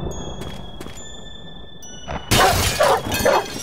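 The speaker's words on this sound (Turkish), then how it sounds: "Camı kır." Glass window smashing in The Happyhills Homicide horror video game: a sudden loud shattering crash after a quiet stretch with faint dings, followed by scattered tinkling shards.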